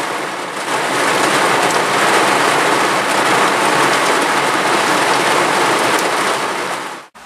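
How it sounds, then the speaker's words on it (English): Heavy rain pours down in a dense, constant hiss, loud and unbroken for several seconds before stopping abruptly. "It is pouring down the rain. And it's coming down hard too."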